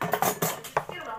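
A spoon stirs a velocity cocktail in a glass, giving a quick run of bright, close metallic clinks and scrapes in an uneven rhythm over about a second.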